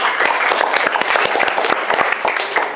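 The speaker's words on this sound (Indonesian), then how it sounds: "Tepuk tangan untuk sekalian semua." Classroom applause from high school students at the end of a lesson, brisk dense clapping with distinct individual claps, loud and close, lasting a few seconds.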